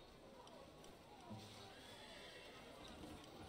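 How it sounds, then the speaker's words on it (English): A horse whinnies in a video game amid a steady murmur of background noise, with faint hoof clip-clop and a voice mixed low. "I keep hearing horses."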